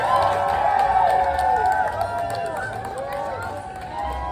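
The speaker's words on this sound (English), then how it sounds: "anybody who's walking out is getting some appreciation and applause to show the crowd some reaction" A theme park crowd at Hollywood Studios on closing night cheers and applauds departing guests, a steady outdoor wash of clapping and voices with music-like tones and talk over it.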